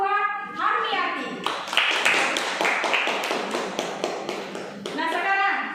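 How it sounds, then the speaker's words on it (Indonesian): Classroom applause from schoolchildren at a junior high school, a burst of rhythmic hand clapping lasting a few seconds close by, with children's voices and chatter mixed in. "Kita kasih aplaus buat Harmiati."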